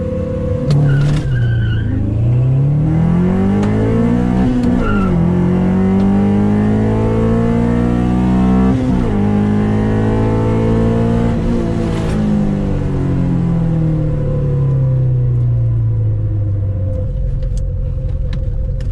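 A B20 VTEC-powered Honda Civic makes a drag strip pass, its engine revving loud and close through rising gear pulls with brief drops at each shift, tire squeal and rumble sustained throughout.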